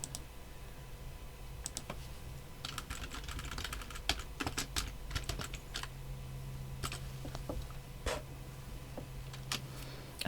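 Irregular bursts of keyboard typing, quick clicks in short runs with pauses between, close by over a faint low hum.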